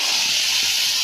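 Ginger, garlic, onion and tomato paste hitting hot oil while cooking a fish curry, a steady loud broadband sizzle that holds evenly for the whole second with no voices.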